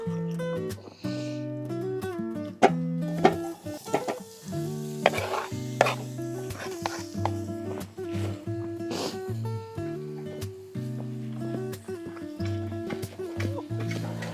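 Chopped leeks sizzle in a pan of hot oil during village cooking. The frying hiss is steady and close for the whole stretch, with occasional stirring clatters, under a layer of steady musical tones.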